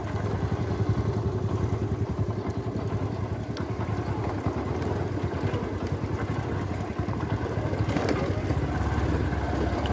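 Motorcycle engine chugging steadily in first gear on a slippery off-road trail, a continuous low, even rumble with faint clatter and no talk.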